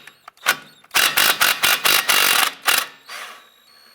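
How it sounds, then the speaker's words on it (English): A wrench working the nut off the bottom strut bolt on a 2006-2011 Honda Civic, a close burst of about eight rapid metallic ratcheting clicks, with a few softer knocks before and after. "we're just going to go ahead and put a wrench on the bottom to hold that so we can get that nut off"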